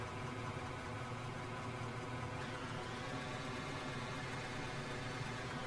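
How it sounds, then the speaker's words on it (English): Vehicle engines in the video game Out of Ore, with their volume turned down, produce a low, steady idling hum with a faint vibrating drone and no talk over it. "I turned the engine noise down."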